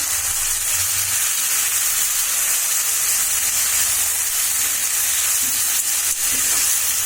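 Onions with whole spices, cardamom and cinnamon, frying in a pan for meat curry: a loud, continuous, even sizzle and hiss with no talking.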